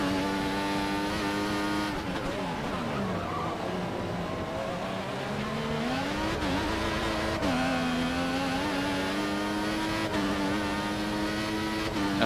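A Formula 1 car in the F1 2014 video game races around the Belgian Grand Prix circuit at Spa, its engine whining loudly and steadily, rising and falling in pitch through gear changes and corners, with no talking.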